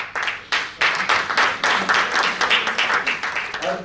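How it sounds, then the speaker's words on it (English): An audience at a literary prize ceremony applauds the nominees, a dense, fairly loud stretch of steady clapping with no talk. "can we have all the nominees on stage so that we can give you a proper round of applause?"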